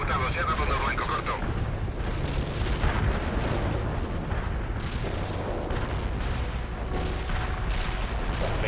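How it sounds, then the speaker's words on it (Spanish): Artillery strike in the video game World in Conflict, a dense rumbling barrage of heavy booms and explosions that rolls continuously and loudly, with radio-style voices talking over it. "Aquí Unión, ataque de artillería ejecutado, se ha dado un blanco corto."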